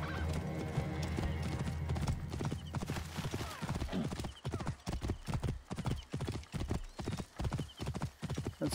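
Rapid hoofbeats of a galloping horse in the video game Assassin's Creed: Origins, steady and fairly close, with a brief whinny near the start.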